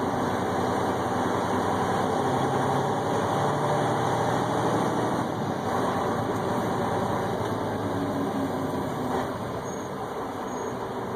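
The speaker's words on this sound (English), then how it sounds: "As we then accelerate, we can watch as the transmission goes through the gears." A Freightliner Cascadia truck engine runs steadily as the SmartShift transmission works through the gears under acceleration, a continuous loud drone heard from the cab with only subtle changes in pitch.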